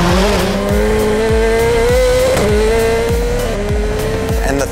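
Subaru Motorsports USA Airslayer race car, a wide-body hillclimb machine, screams hard under acceleration with loud sustained engine roar, repeated rising gear pulls and tire squeal, close and continuous throughout.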